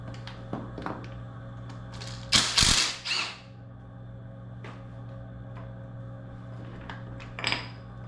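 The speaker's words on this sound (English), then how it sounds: "I'm gonna take the oil pump apart and see if there's anything in there." Tools clatter as a stunt bike's oil pump is taken apart, with sparse ratchet-like clicks and light metal taps and a louder burst of rattling parts midway. Close and fairly quiet, with no talking.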